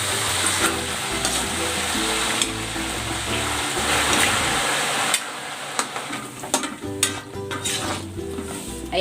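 Banana chips frying in syrup, a continuous bubbling sizzle with stirring scrapes that thins into sparse crackles and pops near the end, no talking.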